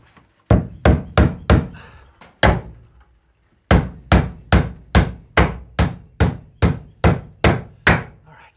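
Sharp, close hammer blows drive nails into wooden wall framing for an off-grid solar shed, a quick burst of four strikes, a couple of spaced hits, then a steady run of about ten evenly paced whacks.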